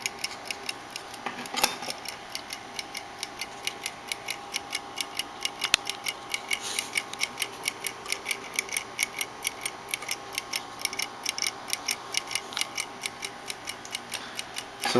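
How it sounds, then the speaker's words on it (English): Gears of a mechanical timer clicking in a steady, rapid tick-tock rhythm, close and fairly quiet, continuing alone throughout with no talk. "You can hear it clicking though."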